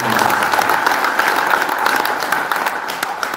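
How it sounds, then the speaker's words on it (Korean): Sustained applause from the audience at the inauguration ceremony of the 19th president of the Korea Senior Citizens Association, a dense, steady wash of clapping that holds at a constant level throughout. "여러분 다시 한번 고마운 박수를 보내주시기"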